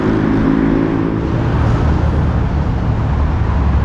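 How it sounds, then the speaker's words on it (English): Dense Sunday street traffic in Nairobi, Kenya, a steady close wash of car, bus and truck engines rumbling past without pause, with no voices. "And this was the traffic looks like on Sunday."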